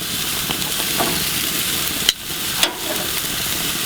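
Squash and mixed vegetables sizzling on an outdoor grill, a loud continuous hiss with two sharp clacks of a utensil against the grate.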